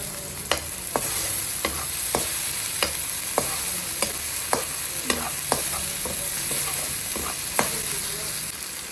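Chopped Bangalore tomatoes fry with ginger and garlic in a pan as Chettinad chicken curry cooks, a steady sizzle broken by repeated sharp scrapes and taps of a stirring spoon, close and alone with no talk.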